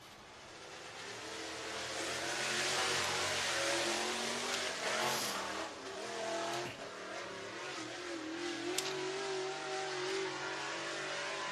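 Race cars at Southern Raceway in Milton, Florida take to the track for hot lap qualifying. Their engines make a steady roar that swells and revs, with a brief tire squeal, heard from a distance with no talk over it.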